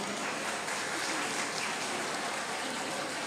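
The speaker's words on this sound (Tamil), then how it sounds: "உங்கள் அனைவரின் கரவொலியுடன் பாராட்டுகின்றேன்" Audience applause fills a school's 30th anniversary function as a dense, steady crowd clapping, loud and continuous throughout without pause.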